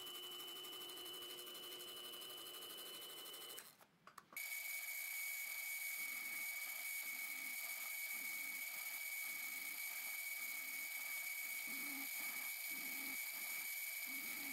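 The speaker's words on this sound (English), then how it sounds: "Back on that threaded arbor, we can drill the main crankshaft bearing" A milling machine drills the main crankshaft bearing for a tiny scratch-built two-stroke engine, the workpiece held on a threaded arbor; a loud, steady machine whine runs throughout, broken by a brief dip before the cutting settles into a pulsing drone.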